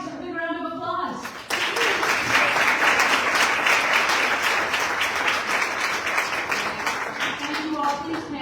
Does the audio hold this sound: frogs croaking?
no